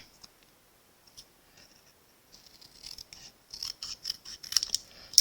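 Scissors snip card stock around a stamped dragonfly garden image, a series of soft crisp cuts that start sparse and faint, then quicken into closer, louder clusters of snips.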